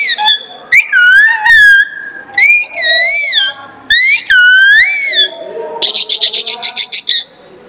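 A person imitates a parrot's call with a run of shrill, warbling whistled notes that swoop up and down in short bursts, ending in a rapid chattering trill; the sound is close and loud.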